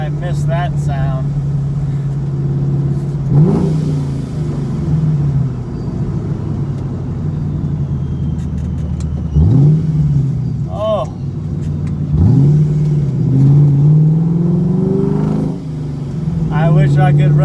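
A car fitted with a new 700HP clutch drives along with its engine droning steadily, rising into several swelling revs, while someone talks over it.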